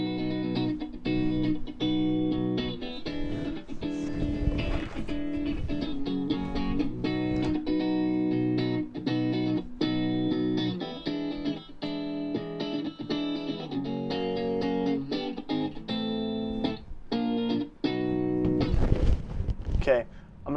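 Funk-style electric guitar playing a second rhythm part, double-tracked, with a steady choppy groove of strummed chords and muted strikes throughout, close and fairly loud, with no talking.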